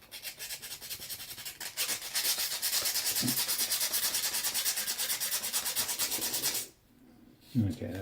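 Sandpaper rubbing rust off metal during a chemistry lab demo, a steady rapid back-and-forth rasping that stays close and loud for several seconds, then stops briefly before a short bump.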